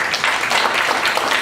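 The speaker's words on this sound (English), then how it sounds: "Let's give them all a round of applause" An audience applauds panelists at an arts event in a steady, dense wash of clapping throughout.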